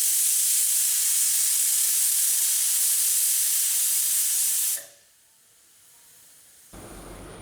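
A pressure cooker cooking beef for a Kerala-style ularthiyathu lets out a loud sustained steam hiss, then stops abruptly, leaving a quiet pause before a fainter low sound returns near the end; no voices.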